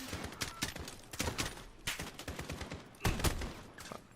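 Rapid bursts of video game gunfire, sharp repeated cracks in quick irregular volleys across a few seconds, loud and close without any speech over them.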